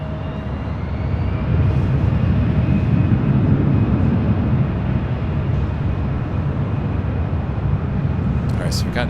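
A Delta airliner departing LAX runway 24 left, a loud broad jet engine roar building steadily and sustained throughout, with a faint high whine above it.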